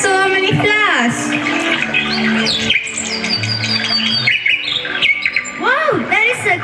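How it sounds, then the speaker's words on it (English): Loud, close bird chirps and squawks come in rapid bursts during a school annual-day nature-themed stage drama, mixed with voices. "Wow, there is a cute bird."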